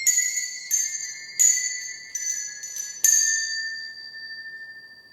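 Bells from Fullmetal Alchemist-inspired music are struck one after another in about six bright, clear tones, each ringing out and overlapping the next, with no voices.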